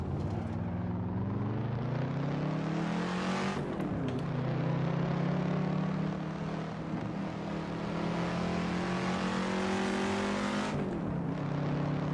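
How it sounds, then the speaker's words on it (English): Modded race car in a PC driving game, engine droning loudly at steady revs with two sharp gear shifts that drop and climb the pitch again, no talk. "What a beast of a car."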